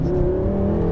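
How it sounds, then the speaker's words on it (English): A 2016 BMW M6 Gran Coupé pulls hard in first gear, its engine droning loud and steady from inside the cabin with a strong, rising tone and no voices. "First gear pull."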